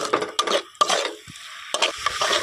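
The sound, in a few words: stirring spiced lentils and masala frying in oil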